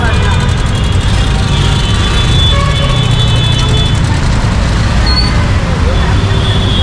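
A crowded local market street in Surat, Gujarat, with loud constant traffic rumble, engines and honking mixed with dense crowd babble, close and busy throughout; a voice speaks over it.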